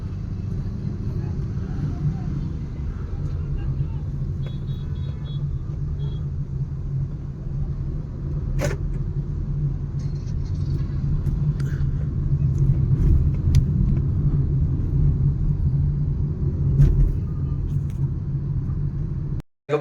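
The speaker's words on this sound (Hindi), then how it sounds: "धीरे धीरे ट्रैफिक मूव हो रहा है" A steady low rumble of slow-moving road traffic in a jam at Shilphata, with engines droning continuously, a couple of sharp knocks and faint horn-like tones, heard from nearby inside the congestion.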